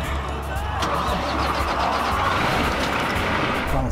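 A Kenworth semi truck's diesel engine starts and runs with a steady, loud rumble close by, continuous through the clip in a cab with the transmission in neutral.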